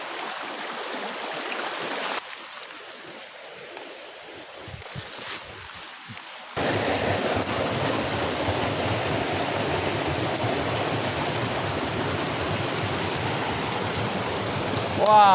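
Steady rushing water of a flowing stream, quieter at first, then louder and closer as a continuous broad wash.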